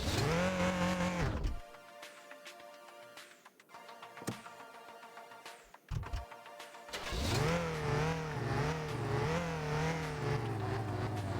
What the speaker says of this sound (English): Come on, car, warm up.